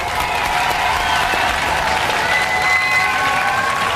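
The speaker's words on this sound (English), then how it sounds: "give a round of applause for the Morgue Posse!" Studio audience applause at a robot combat competition heat, a dense, steady wash of clapping held at an even level from start to end with no talk over it.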